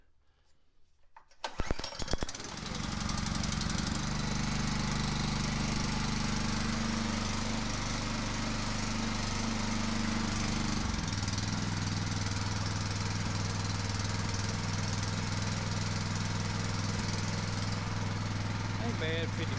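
A cheap $50 gasoline motor on a water pump starts and settles into a loud, steady running drone that continues without a break, with a slight shift in pitch partway through.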